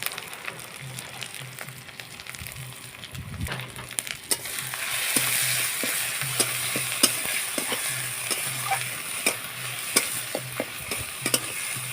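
Spice paste for a bhola fish curry sizzles and fries in a pan, a steady loud crackle with scattered sharp pops and scraping stirs close by.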